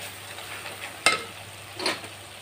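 Spices frying in oil with onion and tomato for soyabean bhurji, stirred in the pan: a soft low sizzle with two brief louder scrapes of stirring, no voices.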